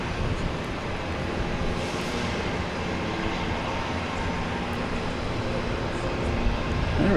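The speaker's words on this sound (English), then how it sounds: "good JetBlue, A220 coming in from Fort Lauderdale" A JetBlue Airbus A220 landing at Boston Logan Airport, arriving from Fort Lauderdale, makes a steady, broad roar of jet engine and wind noise that holds at an even level and swells slightly near the end.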